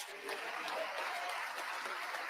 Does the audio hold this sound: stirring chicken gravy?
no